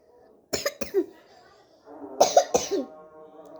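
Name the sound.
coughing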